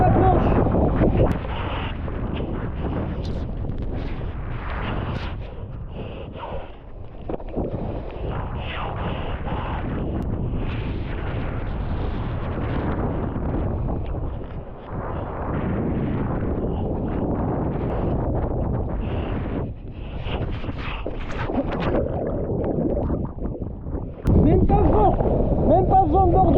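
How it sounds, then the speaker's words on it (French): Strong wind gusting over open sea during windsurfing and wingfoiling, a loud, sustained buffeting roar across the microphone that rises and falls in waves, with a speaking voice partly mixed in. "Et le vent est en train de remonter."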